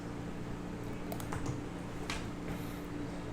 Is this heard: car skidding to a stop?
no